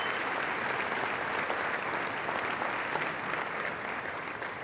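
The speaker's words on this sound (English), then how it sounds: "Let's give William a round of applause for his spectacular leadership." A large audience at an awards dinner gives steady, full applause. The dense, even clapping fills the room at a constant level throughout.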